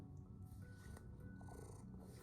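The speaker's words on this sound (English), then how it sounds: "And Maxwell, you just purring your little heart out." A male house cat purrs steadily and softly, a continuous low rumbling drone close to the listener with no other clear sounds.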